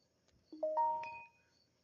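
A phone notification chime plays clearly and close by as a short rising run of bright tones that ends in a ringing note, then fades out in a quiet room.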